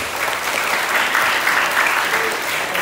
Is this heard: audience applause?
yes